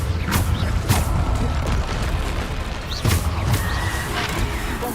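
Loud, crackling booms from a Bombarda blasting spell in Hogwarts Legacy, bursting roughly four times in irregular succession over a dense, rumbling battle din with clattering impacts.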